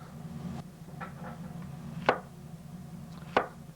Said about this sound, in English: I'm going to cut them in slivers.